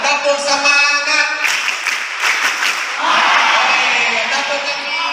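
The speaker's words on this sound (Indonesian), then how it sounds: "Tepuk semangat." A group at an Islamic boarding school performs the tepuk semangat clapping chant, with energetic rhythmic hand claps and voices chanting together in a loud, close, lively burst of crowd clapping.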